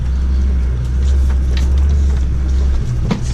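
Land Rover Defender driving off-road, a loud steady engine drone and low rumble from inside the cabin, with bumps and rattles rising toward the end.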